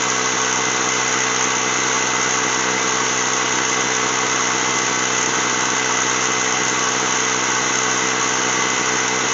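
A Ryobi ONE+ 18V mini compressor inflates a flat car tire with a slow leak, running as a loud, steady, unbroken motor drone with a buzzing hum the whole time.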